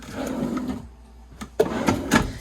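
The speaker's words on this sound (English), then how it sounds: "Down here, you've got a couple of drawers that pull out." Drawer in a Brinkley G3500 RV being pulled out, a short sliding rumble followed by a few quick knocks and clunks as it stops, close and brief with no talk.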